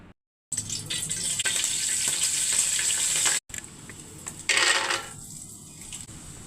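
Ragi flakes and ragi puffs roasting in a hot pan give a close, bright crackling hiss. It runs in two stretches split by a brief cut, and swells louder near the end.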